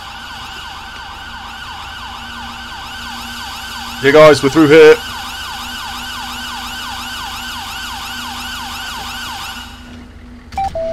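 An ambulance siren wails continuously in GTA 5, a loud, steady rising-and-falling tone, briefly interrupted by someone speaking over it.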